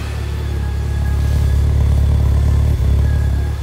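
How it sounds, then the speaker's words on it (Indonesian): A car engine idles steadily with its exhaust note after a MAP sensor and knock sensor replacement, a close, continuous low rumble that stays even and smooth throughout with no voices. "Ya kalau suara knalpotnya sih lancar ya, normal."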